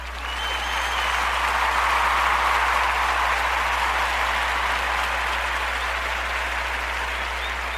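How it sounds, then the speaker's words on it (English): A sustained round of applause from an audience at a community police recruitment event, with steady dense clapping that swells within the first second and holds evenly for about eight seconds, with no voices over it. "I got to give them a round of applause"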